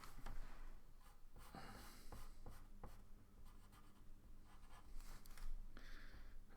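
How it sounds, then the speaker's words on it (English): A pencil scratches across paper while a freehand engineering sketch is drawn, quiet close strokes and light taps coming in uneven bursts against a faint background hum. "So draw the back line."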